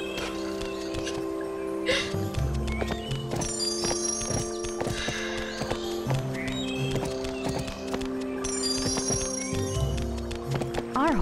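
A horse runs in the Barbie Horse Adventures video game, steady rhythmic hoof clip-clops repeating throughout over looping game music, with a short whinny near the start.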